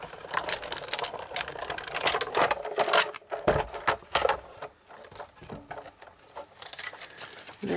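A die cutting machine feeds shrink plastic through Tim Holtz dies, producing a continuous, busy mechanical rattling and whirring that rises and falls in loudness throughout, heard close with no talking.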